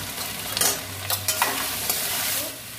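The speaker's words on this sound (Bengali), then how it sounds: "মশলাটা কষা হয়ে গেছে" Ground spices for a cabbage curry sizzle in a hot pan while being stirred, with soft scraping strokes and crackling frying close by.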